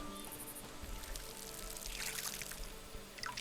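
Water poured onto plants in the farming sim game Fractured Blooms, a soft continuous splashing trickle that swells midway, faint and alone.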